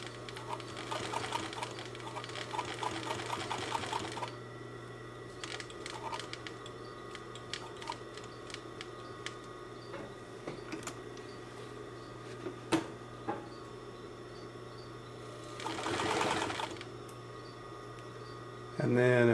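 A Chandler Bernina 950 industrial sewing machine on a clutch motor gives off a low, steady motor hum. Soft ticking and clicking sit under it, and louder bursts of stitching come in near the start and again later.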